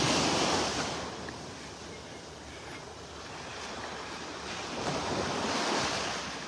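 Waves break on a beach in North Naples, Florida, while wind buffets the microphone. The surf rises and falls in two slow swells over a continuous hiss, moderately near and fairly quiet, with no voices.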